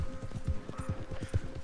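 Rhythmic hoofbeats of a galloping horse in the video game Red Dead Redemption 2, steady and close, repeating in quick clip-clop pulses with faint background ambience.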